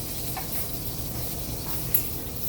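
Browned bits are scraped off the bottom of a pan while cooking chicken, a faint, continuous rasping scrape with a soft sizzle underneath. It is heard close up with no voices.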